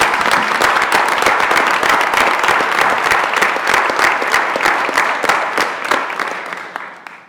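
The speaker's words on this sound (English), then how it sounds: "Let's give him one more round of applause." Sustained applause from a board meeting audience thanking a governor for his service, steady dense clapping filling the room for several seconds before tapering off at the end.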